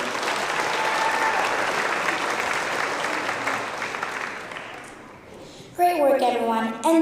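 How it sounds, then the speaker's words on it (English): Steady applause from an award show audience, fairly loud at first, then fading out, with someone starting to speak at the end. "one more round of applause for her work"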